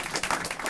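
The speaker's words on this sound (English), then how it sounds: "That's a little round of applause for that." A brief burst of audience applause at a master class with vibraphonist Stefon Harris, a dense, close patter of clapping hands.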